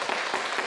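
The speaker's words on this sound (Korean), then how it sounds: "박수 보내주세요" An audience claps for a guest being introduced on a Korean local news program, a short steady patter of applause with no talk over it.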